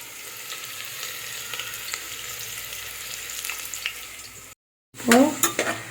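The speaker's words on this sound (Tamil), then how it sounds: "வெங்காயத்தை சேர்க்க போகிறோம்." Onions frying in a pan for mutton kulambu hiss in a steady, close sizzle with light stirring clicks, then the sound cuts out briefly before returning louder with vigorous stirring.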